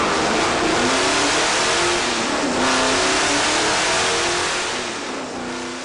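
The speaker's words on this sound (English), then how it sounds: "behind these parachutes lays a mighty big V8 engine that could fit only in a car of such girth" A big Dodge Charger V8 engine revs loudly and steadily, a dense roaring drone with rising and falling tone across the whole stretch, no talk over it.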